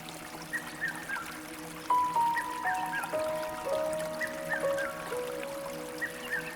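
The Caué River on Sao Tome flows and trickles softly, with faint, quiet running water and some thin tonal sounds over it and no voices.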